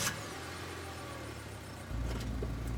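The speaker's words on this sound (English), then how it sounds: "Tabitha doesn't say a word as the car cuts along the darkened road." Car driving along a darkened road in a video game, a steady low engine hum under faint hiss that swells slightly louder near the end, no voices.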